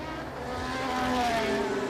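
Formula 1 cars race at the 1981 San Marino Grand Prix, including V12 Alfa Romeos and a Cosworth-powered car, engines droning in a sustained high whine that swells as they pass, heard from a distance.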